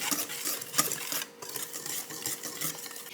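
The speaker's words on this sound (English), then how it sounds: "I'm just gonna whisk them dry." Dry banana chocolate chip muffin ingredients with a little cinnamon are whisked in a bowl, making quick, steady scraping strokes that rise and fall in a close, continuous rhythm.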